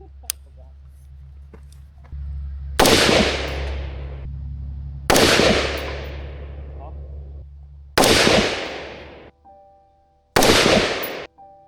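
Rifle shots fired outdoors in the mountains, four loud sharp cracks spaced a couple of seconds apart, each followed by a long rolling echo that decays through the valley.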